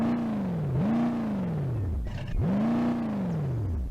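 A wagon's engine in BeamNG.drive, freshly fitted with a manual transmission and transfer case, revs up loudly twice, each rise swooping upward then falling back to a rough idle, heard alone at close range.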